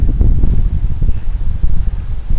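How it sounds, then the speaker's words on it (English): Wind buffets the microphone of a pocket body camera outdoors on a farm, a continuous low, rumbling roar with no one talking. "it's very windy outside"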